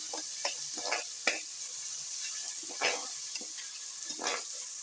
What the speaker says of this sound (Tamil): வெங்காயம் வந்து நல்லா கோல்டன் கலரில் வதங்கி வரணும்